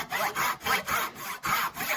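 A hand saw rasps through wood cutting a tenon in quick, even back-and-forth strokes, about eight of them, close by and fairly quiet.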